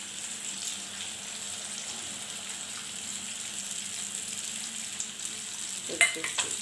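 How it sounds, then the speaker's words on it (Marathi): Fish curry (rassa) cooking in a pan as water is added: a soft, steady sizzle and stir, with a few sharper splashes and clatters near the end, quiet and close. "आता ते पाणी टाकू आपण याच्यामध्ये"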